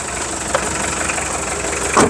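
An idling Isuzu Dragon Eye 4x4 pickup with a slightly cracked exhaust pipe runs steadily up close, a rough, buzzy rumble with a couple of brief knocks and puffs breaking through.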